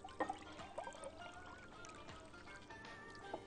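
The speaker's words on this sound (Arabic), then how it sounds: "بنحط كوبايه من الخل لكل لتر من الميه" Vinegar is poured from a cup into water for pickling green olives, giving a soft, close trickle and splash that runs on quietly for a few seconds.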